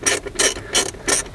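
A hand ratchet clicks in four quick, evenly spaced bursts of bright metallic ticks, heard close up and with no talk, while work goes on inside the interior of a BMW 323ci E46.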